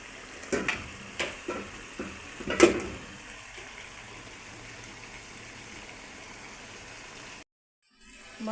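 Green chilies go into a pan of frying pangas fish bhuna, and a spoon clacks and stirs several times over a soft sizzle that thins out before a brief silence.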